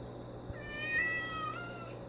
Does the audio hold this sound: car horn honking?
no